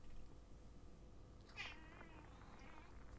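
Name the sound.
cat meowing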